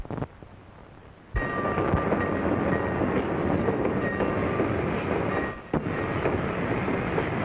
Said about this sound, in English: It'll be nice and cool on the train, won't it, Mr. McNair?